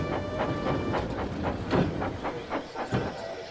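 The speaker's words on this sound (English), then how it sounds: "One morning, Percy brought the first train to the station." A train rolling along the rails, with rhythmic clacking bursts repeating over steady mechanical noise and a faint hiss.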